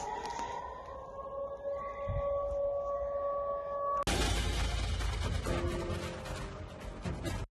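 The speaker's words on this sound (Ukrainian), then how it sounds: "Сирена над Энгельсом все еще есть." Civil defense air raid siren wailing over Engels, a steady distant tone that is suddenly cut off by a loud, dense burst of noise that fills the rest of the recording.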